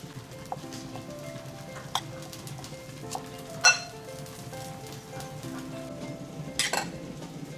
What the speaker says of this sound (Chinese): 然后给它搅拌了。